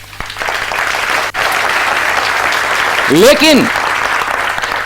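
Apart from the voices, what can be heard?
audience clapping in a seminar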